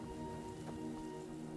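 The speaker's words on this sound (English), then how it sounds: "It's 1 AM and it's raining." Steady, soft rain falls in the video game Enderal: Forgotten Stories at night, a constant faint patter with no talking.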